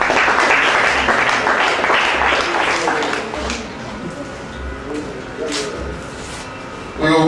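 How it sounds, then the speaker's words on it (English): Audience applause at an International Day of People Living with Disability ceremony, loud clapping at first that thins and fades over several seconds, with voices mixed in. "A round of applause."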